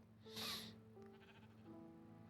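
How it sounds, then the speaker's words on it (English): A single sheep bleats once, a short wavering cry close by, followed by quiet background hum and faint rustling. "Fucking sheep."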